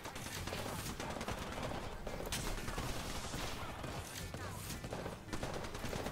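Sustained enemy gunfire in Apex Legends, dense rattling volleys and repeated shots running almost nonstop, loud and close, with brief lulls and a player speaking now and then.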